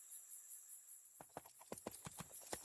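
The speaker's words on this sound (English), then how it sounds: "Much as I hate walking the horses by moonlight" Several horses walk at an unhurried pace by moonlight, hooves clip-clopping in an irregular rhythm that begins after a second of near silence and carries on at close range with no talking.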